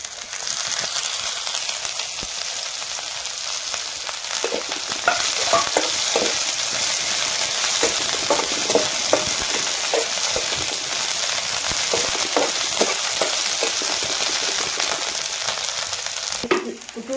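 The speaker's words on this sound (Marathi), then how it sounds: "तेलामध्ये लसूण कांदा परतून घेतला आता हिऱ्या मिरचा कसासाठी टाकून देऊ आपण याच्यात" Garlic, onion and green chillies frying in oil for a gram-leaf bhaji, giving a loud, steady, close sizzle with repeated scrapes and taps of a spoon stirring the pan throughout.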